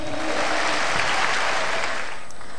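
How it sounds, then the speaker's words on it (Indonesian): A crowd applauds at a stand-up comedy show on a televised stage, steady loud clapping filling the room throughout without a break. "tepuk tangan buat Metro TV."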